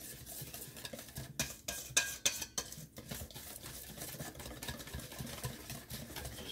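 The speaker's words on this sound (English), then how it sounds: "Then we just gonna stir that up real good like this" Doughnut batter with flour being stirred in a bowl, quiet close scraping and clattering strokes with a few sharper clinks of the utensil against the bowl.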